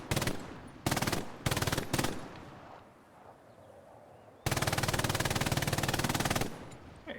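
Machine gun firing during a training exercise: several loud, rapid bursts, two short ones and a third short burst, then a pause and one long sustained burst, fairly close with faint background between.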